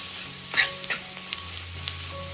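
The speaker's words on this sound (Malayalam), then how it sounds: "പൊടിയുടെ പച്ചമണം മാറി കിട്ടുന്നവരെ ഒന്ന് ഇളക്കി കൊടുക്കാം." Garam masala and other spice powders being stirred and fried in a pan: a close, steady sizzle with a few scraping strokes of a spoon and soft knocks, no talk.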